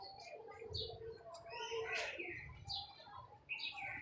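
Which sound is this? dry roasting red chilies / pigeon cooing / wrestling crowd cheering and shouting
pigeon cooing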